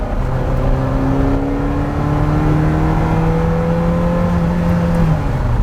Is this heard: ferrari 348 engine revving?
yes